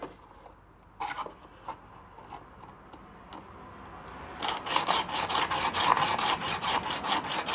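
A wood chisel's bevel being sharpened, starting with sparse light taps and scrapes, then building into a rhythmic, close abrasive rasp of repeated back-and-forth strokes that grows louder toward the end.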